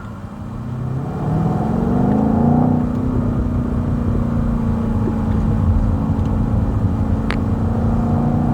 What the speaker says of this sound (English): It makes a nice sound inside the car.